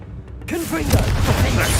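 A Confringo fire spell in Hogwarts Legacy goes off as a sudden loud, rumbling blast after a brief hush, then continues as a sustained fiery roar. A voice can be heard over the start of it.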